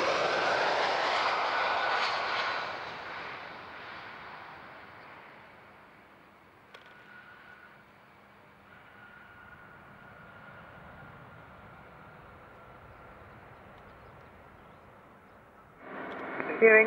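A fixed-wing airliner lands on runway 14 at Zurich airport, its engine roar loud at first, then fading into a long, steady, softer rumble with a faint whine, while a radio voice speaks near the end.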